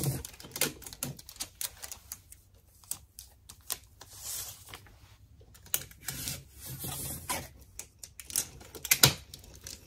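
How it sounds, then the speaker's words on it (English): Strips of tape pulled and pressed around sublimation mouse pads, a run of sharp, close crackling tears and taps that come in uneven bursts across the whole stretch, with no talking. "I'm taping them all around because I gotta flip it."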